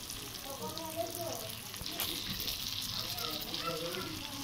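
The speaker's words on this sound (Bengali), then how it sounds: "এবার মশলাটা ভালো করে ফ্রাই হওয়ার জন্য অল্প পরিমাণ জল দিয়ে দেব।" Spice masala with green chillies sizzles and fries in a pan after a little water is added for a vegetarian Bengali cabbage curry, a soft, continuous crackle heard fairly quietly, with some talk.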